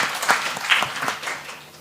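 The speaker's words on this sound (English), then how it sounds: "Did you give them a round of applause for that they did?" An audience at a childcare-support forum gives a panel a round of applause, a brief, moderately loud patter of many hands clapping that tapers off.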